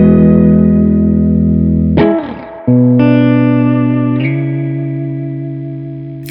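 Electric guitar run through an EHX Silencer noise gate pedal with delay or reverb, sustained distorted chords cut off, then new chords and notes ringing with echoing tails, loud and close, no voice.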